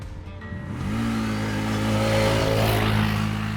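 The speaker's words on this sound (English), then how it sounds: "At idle, the engine has this deep growl, and when you hit the throttle, it drops some serious bass." Loncin Xwolf 1000 ATV with stock exhaust, engine rising from idle into a loud sustained rev with a deep growling tone, close by and alone without talk.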